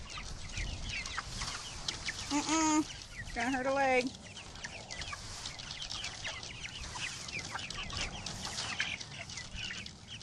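Farm chickens clucking and squawking around a person, with two sharp rising squawks early on over constant background chatter of fowl, while someone talks over them.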